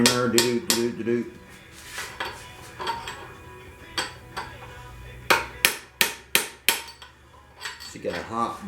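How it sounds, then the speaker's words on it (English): A small hammer knocks a bearing inner race off a Husqvarna mower deck: a scattering of sharp metallic strikes, then a quick run of five louder, evenly spaced blows, with someone talking between the hits. "We'll try it with a baby hammer first."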